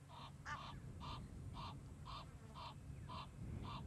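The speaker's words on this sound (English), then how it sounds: "Making quack, quack, quacking noises." Egyptian geese at a waterhole in a drought-hit national park call in a regular series of about eight harsh, honking quacks, evenly spaced and fairly distant over a low background hum.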